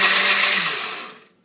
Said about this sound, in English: what I do is I just grind it in the blender